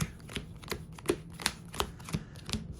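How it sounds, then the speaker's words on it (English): Yu-Gi-Oh cards are power shuffled in a quick run of about eight crisp riffling bursts, each one a sharp papery snap at an even rhythm, close up and with nobody talking. "Just power shuffle real quick."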